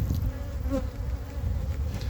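A dense, continuous buzz of many honeybees droning close by at a hive, a steady low hum with occasional individual bees passing near.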